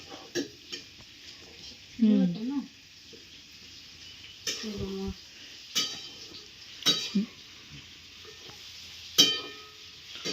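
Vegetables frying in a pan in a home kitchen, giving a faint, steady sizzle with intermittent clinks of utensils against cookware and brief voices talking nearby.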